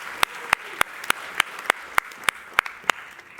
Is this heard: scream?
no